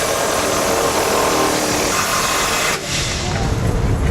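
An impact wrench drives trailer hitch bolts on a 2016 Ford Transit, a loud, harsh, continuous whirring close up that briefly dips near the end before carrying on.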